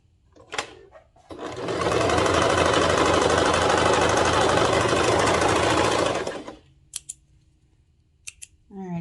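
A sewing machine stitches a seam along a pants cuff in one continuous, loud, close whir that lasts several seconds, with brief handling noises before and after.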